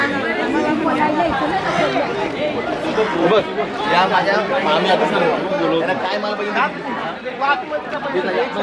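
Dense crowd chatter at a village fair in Mhasa, a loud, continuous babble of many overlapping voices close around, with no single speaker standing out.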